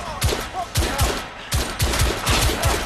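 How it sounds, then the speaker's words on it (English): Gunfire from the video game The Order: 1886, fired into the air: loud bursts of repeated, rapid shots in quick clusters with short gaps, and no talk. "I'm just shooting into the air right now."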